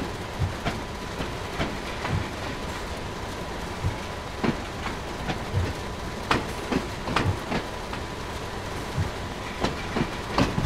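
A BR 155 electric locomotive built by LEW Hennigsdorf rolls forward in Train Sim World 2, a steady running hum broken by regular clickety-clack rail-joint knocks, with no talking.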